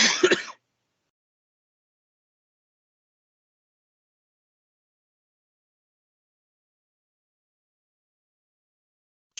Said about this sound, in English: I am sorry for the coughing.